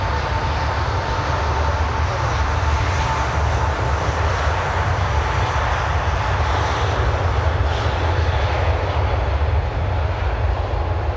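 A Super Hornet fighter jet at takeoff at Miami airport gives a loud, continuous engine roar with a deep rumble and broad hiss, sustained without a break.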